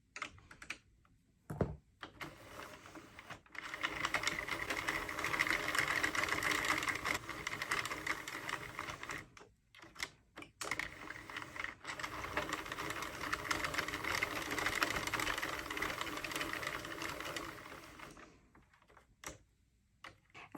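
Addi or Sentro circular knitting machine cranked steadily, a dense rattling clatter of needles running in long continuous stretches broken by brief pauses, close and moderately loud with no talking.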